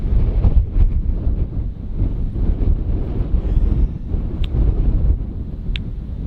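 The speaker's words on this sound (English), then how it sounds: "I'm just gonna have to suffer the wind for the night." Wind blows steadily at an outdoor campsite, a loud low rumble buffeting the microphone with gusts that rise and fall, and a couple of faint brief higher sounds over it.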